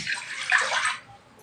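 Water splashes into a pan for sugar syrup in a short, close pour lasting about a second, then fades to a quiet trickle.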